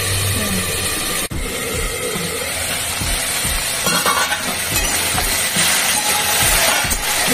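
Vegetables for dudh shukto fry in a pan while being stirred: a loud, continuous sizzle close by, broken by repeated scraping and clinking stirs.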